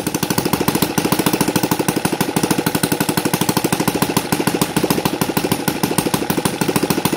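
An NGH FG 38 model airplane engine with CH ignition idles steadily on a light prop, a fast even chugging pulse that stays loud and close throughout, with no voices.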